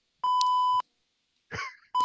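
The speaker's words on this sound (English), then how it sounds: "Oh no. we beeped." Electronic beeps in a Zoom meeting: a long steady tone, then a shorter one cut off at the end, with a brief human groan-like vocal sound between them.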